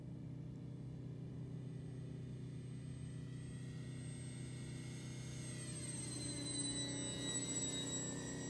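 A Big Bobber RC model airplane flying with flaps down, its motor a steady droning hum with a faint whine that slowly shifts in pitch as it passes, continuous and moderately distant.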